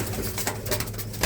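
A pigeon coos softly and steadily at close range, one continuous low murmuring call over the short stretch, among a flock of racing pigeons kept in a Punjabi loft.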